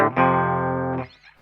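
An electric guitar through a distortion pedal rings out one sustained, heavily driven chord close and loud, cutting off after about a second with no talk.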